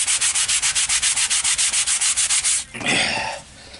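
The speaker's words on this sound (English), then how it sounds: "you still want to sand it off as much" Sandpaper rubs back and forth against a plastic Nerf gun blade build piece in quick, steady strokes, about twenty even passes, then stops and gives way to a brief, different scraping or rustling burst.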